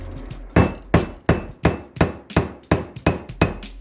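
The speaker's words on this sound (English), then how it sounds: "Pound them in." Hammer blows drive longer wheel studs into freshly machined brake hubs, about nine sharp metallic strikes in a steady rhythm, close and loud with short ringing decays.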